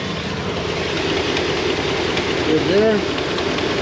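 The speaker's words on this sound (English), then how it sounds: "Sounds like it might have an exhaust leak." A Dodge Durango engine idling with a possible exhaust leak, a steady low rumble with a faint ticking hiss throughout, heard close with a brief spoken remark over it.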